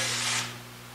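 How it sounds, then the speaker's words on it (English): A short hiss of cooking spray from a can into a baking pan, up close, fading quickly into quiet background hum. "make sure that you spray it all around it evenly, in the middle and the edges and corners everywhere"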